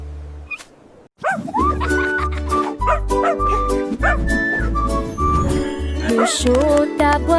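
Dog barks and yips ring out over bouncy music with a steady thumping bass beat, several short bursts spread through the clip.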